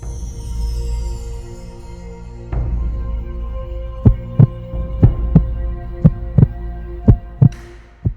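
Steady pounding heartbeat as a sound effect, a run of sharp low thumps in quickening pairs over a sustained droning hum, loud and close with no speech.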